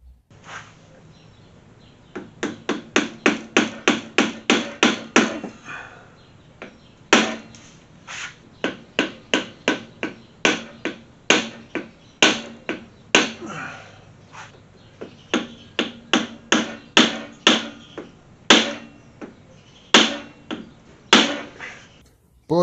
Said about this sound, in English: we're just going to go in here with a hammer and a screwdriver, see if we can knock it loose